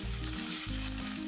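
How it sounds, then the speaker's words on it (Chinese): Fish head, part of a bluethroat wrasse being braised, fries in hot oil in a wok, giving a steady close sizzle that swells and pulses briefly with no voices. "拎住鱼的尾巴，将鱼头两边煎一下"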